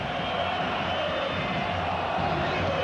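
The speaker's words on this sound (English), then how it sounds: "the chants of the crowd, listen, boring" A big stadium football crowd at the 1998 World Cup match between Argentina and the Netherlands keeps up a steady, dense roar of chanting voices in the distance, with a commentator's voice over it.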